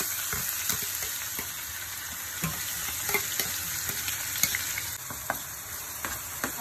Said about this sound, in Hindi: इसमें डालिए हींग, जीरा, इसमें डालेंगे हम कटे हुए प्याज,